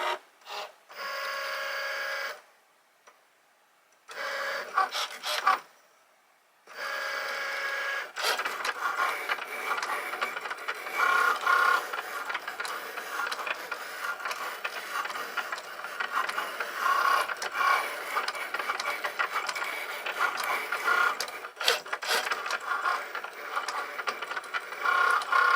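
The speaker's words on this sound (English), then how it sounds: "the machine is just going to check it's got the right tool for the job" A craft cutting machine checks its fine point blade before cutting cardstock lettering. There are brief mechanical whirs with two short silent gaps, then a long stretch of quiet ratcheting, gear-driven clicking and scraping at low level.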